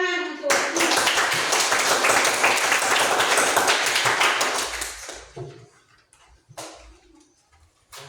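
Classroom applause for a student: dense, steady clapping from many hands lasts about five seconds, then fades to a few scattered claps.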